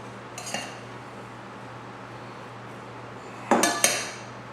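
Macaroni salad with green onions is stirred in a bowl, bringing a few clinks and scrapes of a utensil against the dish, one near the start and a louder cluster near the end, over a low steady hum.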